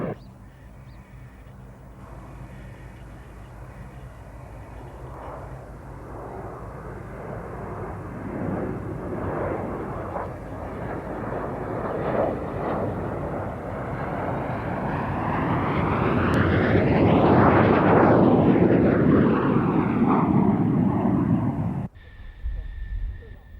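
Patrouille de France jets of the French Air Force aerobatic team flying in close formation at an air show, a steady roar of jet engines that swells loud as they pass overhead with a sweeping Doppler whoosh, then cuts off abruptly.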